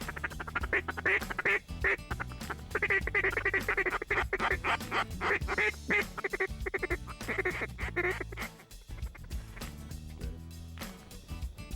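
Ducks and geese on a snowy Alberta waterfowl hunt, a loud chorus of rapid quacking and honking that carries on steadily, close and busy, before easing slightly near the end.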